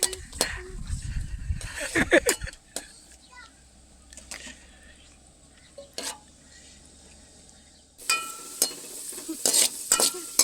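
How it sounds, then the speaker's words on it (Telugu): Halwa made from pumpkin with ghee, raisins and cashews is stirred in a pan, giving soft scraping and faint sizzling, with someone talking over the cooking sounds and clattering at the end. "Mix mix mix mix."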